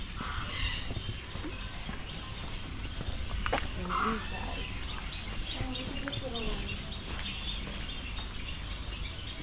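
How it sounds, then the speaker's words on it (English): Small birds chirp in short, scattered calls at Australia Zoo, blended with outdoor crowd murmur, footsteps and a person talking nearby. "Some blue sparrows."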